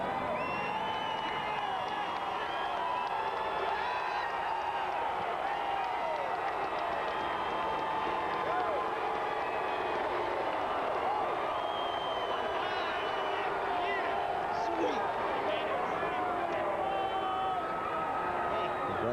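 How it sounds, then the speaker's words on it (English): Crowd cheering as Jeff climbs out of the winning car at the 2005 Subway 500 NASCAR race, a steady roar of distant voices and whoops that holds at an even level throughout. "I think there'll be a pretty loud cheer"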